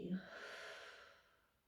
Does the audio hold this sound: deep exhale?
yes